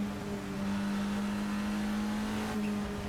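A Lister Storm race car engine in the Project Motor Racing sim, from the GT Legends car pack, holds a steady, loud drone with a constant pitch and no talking.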